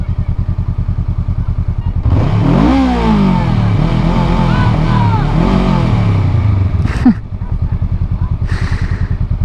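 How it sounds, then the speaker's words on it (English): A cruiser motorcycle idles with a lumpy rhythm, then revs hard for several seconds, its engine note climbing and falling, before settling back to a steady idle, loud and close. "It's a cruiser. It's not a fast bike, brother."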